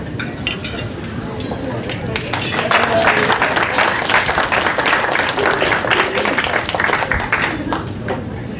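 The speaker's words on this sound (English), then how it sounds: "will you stand and let us applaud you?" An audience applauding students at an annual lecture event, steady dense clapping filling the room, swelling slightly midway, with faint chatter mixed in.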